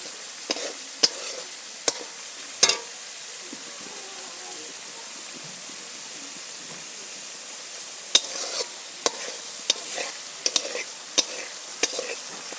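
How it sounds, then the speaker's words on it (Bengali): Spice masala with turmeric frying and being stirred in oil in a pan, a steady soft sizzle broken by sharp scraping clicks of the spoon, close and moderately quiet, with no talk. "মশলাটা ভাজা হয়ে গেছে দেখতেই পাচ্ছেন মশলা থেকে তেল ছেড়ে দিয়েছে"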